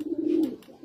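A Teddy flying pigeon gives a short, close, low, soft coo that swells and fades in one continuous call, with no one talking.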